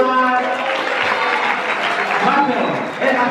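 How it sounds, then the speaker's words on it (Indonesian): A school audience of students applauds a classmate called to the front, a dense, loud, steady wash of clapping with voices mixed in throughout. "Tepuk tangan buat"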